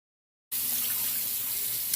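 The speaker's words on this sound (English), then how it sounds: "take a wet towel and wipe it off, and then rinse it off the towel" Running water starts abruptly from a tap after half a second of silence as a towel is rinsed, a steady close rushing flow that continues to the end, with no voices.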